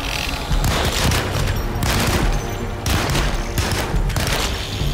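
Video game gunfire forms a loud, dense barrage of shots and booms that runs nearly unbroken, with brief lulls, and no talking over it.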